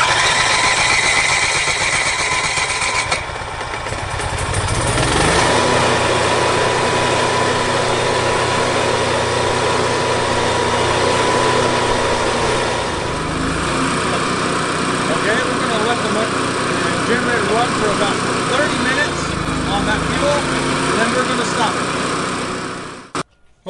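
An Onan generator engine running after a clogged carburetor repair, a loud steady mechanical drone with rattling, the tone shifting in load several times before it cuts off abruptly at the end.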